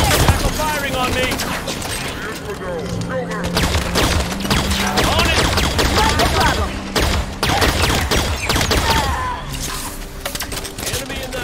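Dense rapid gunfire and bursts in the Halo 5: Guardians campaign mission Enemy Lines, loud and continuous, with squad voices calling out over the shooting.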